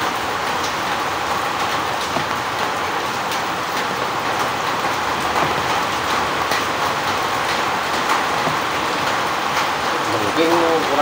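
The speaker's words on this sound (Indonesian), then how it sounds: "Ya sambil nunggu hujan reda ya" Steady rain falling and pattering on surfaces outdoors, a continuous even hiss throughout with a faint rumble beneath.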